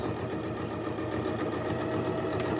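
A sewing machine runs steadily, stitching along the edge of a padded zipped pouch, its rapid, even needle rattle carrying close and continuous with no voices over it.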